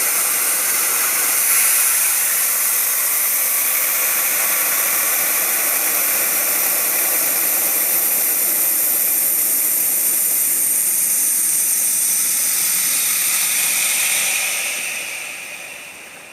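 A Dewalt air compressor with a faulty check valve leaks air back through it, a loud, steady, broadband hiss that holds level for most of the span, then tapers off near the end, with no talking.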